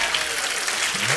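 A studio audience at a Hindi comedy show claps in a short, dense burst of steady applause.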